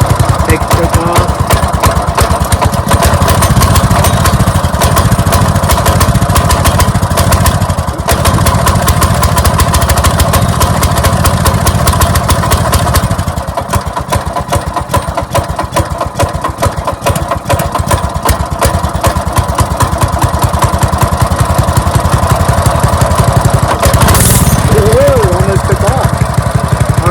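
Small engine running steadily after the choke is taken off, a loud continuous close-up mechanical putter with a rapid regular firing rhythm and slight fluctuations in pace, a voice briefly heard over it.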